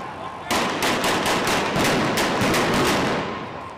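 Police gunfire breaks out at a street protest in Baghdad, a sudden loud volley of rapid cracking shots that keeps up over a steady crowd din.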